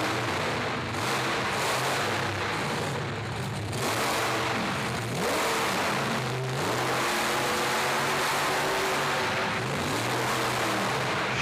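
A monster truck engine roars continuously inside an arena, a loud rumbling drone with repeated surges as it revs and drives around the floor, no voices on top.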